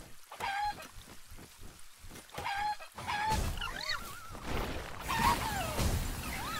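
Chickens in the survival game Palworld cluck and squawk in short bursts, close and fairly loud, with rising chirpy calls piling up over the second half over a low rumble.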